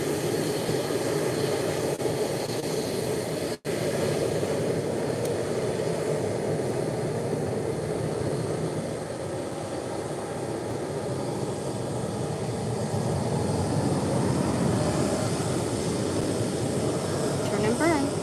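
TAP Embraer E190 taking off from Málaga airport, a loud sustained jet roar with a dense rumbling wash, shifting tone slightly as the climbing aircraft passes.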